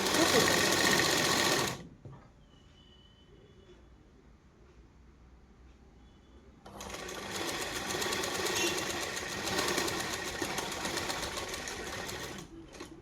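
Sewing machine stitching a pocket onto a kurta: a loud, steady, close mechanical whirr runs briefly, pauses in near-quiet for several seconds, then resumes for a longer continuous stretch before stopping.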